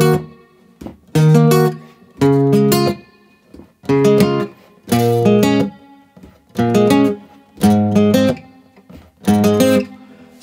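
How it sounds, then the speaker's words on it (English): A Lava Me Air carbon guitar playing the intro riff of a song with reverb, short plucked chord phrases repeated in a steady pattern with brief gaps, close and clear. "So the intro guitar riff sounds like this."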